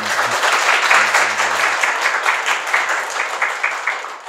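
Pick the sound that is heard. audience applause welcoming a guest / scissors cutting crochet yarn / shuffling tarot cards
audience applause welcoming a guest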